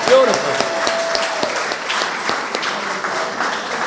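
Outdoor crowd at a Cape Verdean flag raising at Brockton City Hall applauds steadily, a dense, even patter of many hands clapping with a few sharper individual claps and a faint voice near the start.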